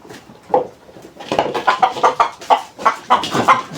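Fayoumi chickens cluck close by in a quick run of short, clipped calls, growing busier after a quiet start.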